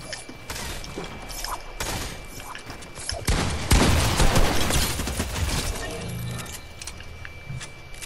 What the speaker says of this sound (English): I'm just over here SMG spamming you.